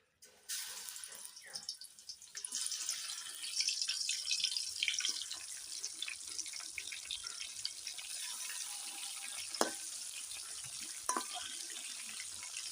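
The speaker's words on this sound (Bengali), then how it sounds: "বন্ধুরা এখন আমি মাছগুলো ভেজে নিব" Hilsa fish pieces fry in hot oil, a steady, hissing crackle that swells after a quiet start and runs on evenly, with a couple of sharp clicks near the end.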